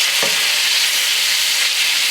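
Ground beef for sloppy joes sizzles and fries in a hot pan, a dense steady crackle that fills the whole moment with no voices.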